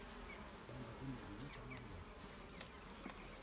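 Many honeybees hum and drone steadily close by at an open beehive, a continuous faint buzzing swarm with no talking.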